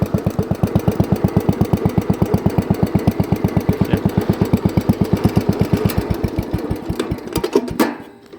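A tractor engine chugs with a fast, even rhythmic pulse, loud and close, working on snowy ground before tapering off near the end.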